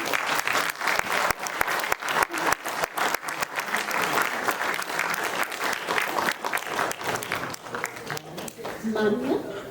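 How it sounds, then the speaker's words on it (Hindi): Audience applause at a Hindi stage play: scattered sharp individual claps quickly build into sustained, fairly loud clapping from a crowd, with faint voices mixed in toward the end. "तालियां बजती रहनी चाहिए।"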